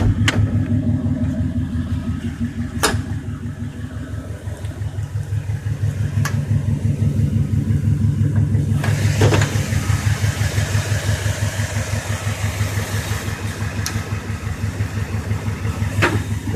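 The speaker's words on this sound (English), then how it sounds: "It's one of them roller cam TBI engines." A Chevy roller cam TBI engine fitted with an aluminum intake and an Edelbrock carburetor idles steadily after a cold start, a close, loud, even rhythmic rumble with a few sharp clicks and clanks over it and no talking.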